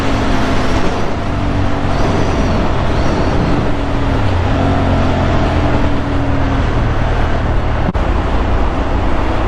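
An Aprilia motorcycle ridden at full throttle on an autumn road, a loud, continuous engine roar with rising tones over heavy wind rush, close and unbroken.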